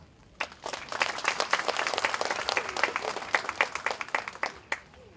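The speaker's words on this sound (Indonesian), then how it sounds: "maka hari ini atau saat ini kita tepuk tangan untuk Tuhan" A crowd at the inauguration of a market in West Papua claps together in dense, sustained applause that swells after a quiet start, then fades to a few scattered claps at the end.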